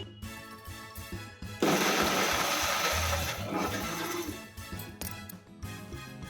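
An electric mixer grinder whirs as it grinds red chillies, tamarind and salt into a paste, a loud sustained grinding burst between quieter mechanical rattling before and after.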